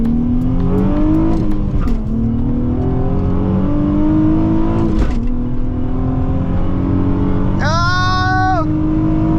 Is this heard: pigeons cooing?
no